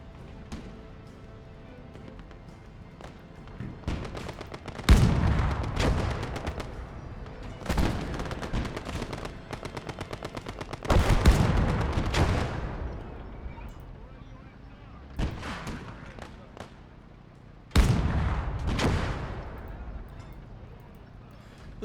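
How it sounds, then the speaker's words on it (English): Artillery fire in the Commonwealth Conquest beach-storming battle game, with several loud booming blasts spaced a few seconds apart over a constant rumble of gunfire and battlefield noise, and faint talk in the background. "They've got some form of artillery."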